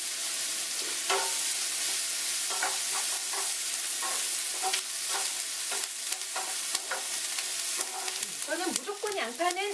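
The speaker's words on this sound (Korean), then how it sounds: "지금요 저 아주 센 온도에서 지금 볶고 있거든요." Constant hot sizzle of onions and ham stir-frying at high heat, with repeated spatula scrapes and clacks against the pan, close and busy throughout.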